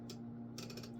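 An IBM Selectric Correcting II electric typewriter mechanism runs freshly serviced, making faint mechanical clicks and ratcheting bursts over a steady motor hum, with a short clatter followed by a rapid run of clacks.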